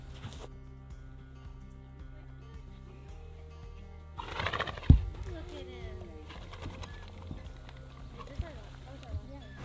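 Horses in a pasture give a whinny and some soft snorting and movement, with birds cooing nearby and a voice talking over the quiet outdoor scene.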